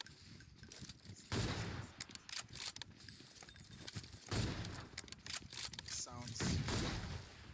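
AWM sniper rifle firing in PUBG Mobile: three loud, sharp shots spaced about three seconds apart, each with a booming tail, plus a metallic bolt-cycling clatter between shots.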